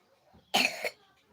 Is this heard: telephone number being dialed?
no